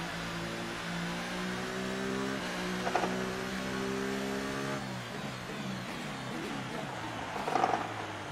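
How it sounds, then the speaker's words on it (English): McLaren F1 car in F1 2018 at the Austrian Grand Prix with a gearbox that sounds odd: a steady engine drone with rising pitch and abrupt shifts near three and five seconds, heard alone without talk. "this gearbox sounds very weird"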